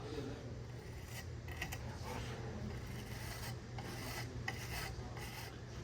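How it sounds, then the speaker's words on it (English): A small scrubber pad rubs steadily across the engine surface of a high-mileage 7.3 diesel, producing a close, continuous rasping scrape with faint irregular strokes throughout. "And then the last thing you do is use your little scrubber here."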